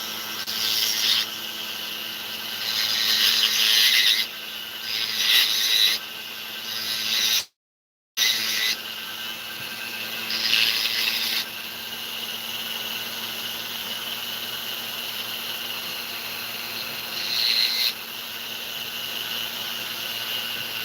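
A rotary burr grinds a seat into a ring for a gemstone, giving a high whining buzz in several bursts of a few seconds each, separated by quieter gaps and one brief dropout, close and without talk.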